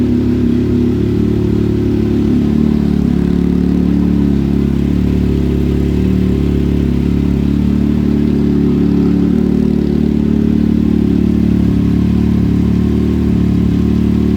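A vehicle engine idling after a key ignition repair, with fresh oil and antifreeze, a loud, steady low rumble holding an even note throughout, close by with no talk.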